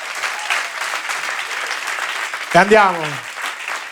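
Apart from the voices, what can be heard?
studio audience applause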